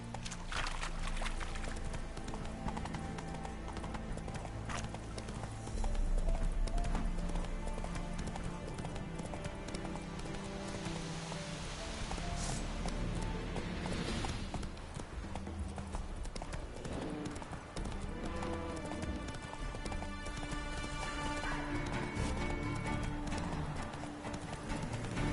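A horse gallops in The Witcher 3, a steady rhythmic drumming of hooves that runs without a break under dense game music and ambience, moderately loud throughout.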